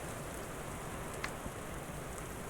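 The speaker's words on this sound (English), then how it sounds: "It's really heavy rain, too." Heavy rain pours down steadily outside a mansion's small front porch, a dense, even hiss with no break, and faint drop taps now and then.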